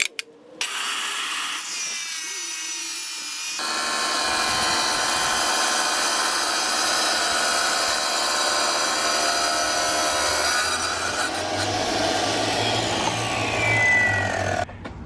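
Diamondback 7-inch tile saw from Harbor Freight cutting hard porcelain tile: the motor starts, the blade bites in with a loud, sustained grinding whine that shifts in pitch midway, then the motor winds down at the end.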